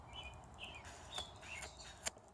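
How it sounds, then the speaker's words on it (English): Several faint bird chirps and short song phrases ring out over a quiet, steady background hum, spaced irregularly. "I am listening to the birds"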